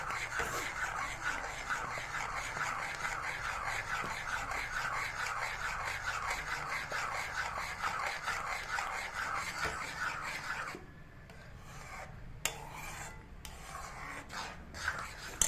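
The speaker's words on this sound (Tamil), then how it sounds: "கொஞ்சம் பெரிய அடி கனமான பாத்திரத்தில் வந்து நீங்கள் கலருங்க" A spoon scrapes and rubs against the base of a heavy-bottomed pot while thick buttermilk porridge (mor koozh) is stirred, a steady rhythmic rasping close up that thins out near the end.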